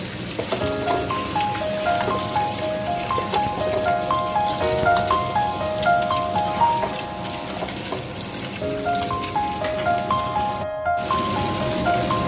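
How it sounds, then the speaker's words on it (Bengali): Potatoes and jackfruit stir-fried with spices in a pan give a steady crackling sizzle that runs under continuous background music. "এখন সেই ভেজে রাখা আলু আর কাঁঠাল এই মশলার সঙ্গে আবারও মিক্স করে কষিয়ে নেব।"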